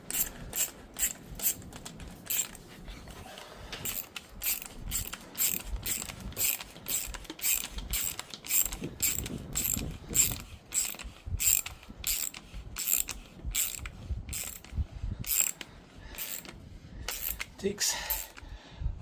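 A ratchet tightens a clamp on a sprayer load pad, giving a steady run of loud, sharp clicks in even strokes close to the mic, with a voice talking at times.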